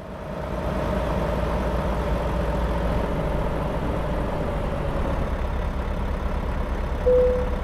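Truck engine in American Truck Simulator idles in a steady, low rumbling drone that holds evenly throughout, with a brief higher tone near the end and no talk.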